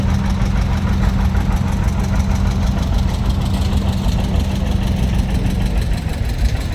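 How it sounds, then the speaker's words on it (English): A 1954 John Deere 60 tractor in working clothes idles during a tractor parade at a threshermen and collectors show, its engine giving a loud, close, steady low chugging with a regular knocking pulse and no speech. "And then a John Deere 60 in its working clothes. 1954 edition from Ida Grove, Iowa, Tim Stoppel"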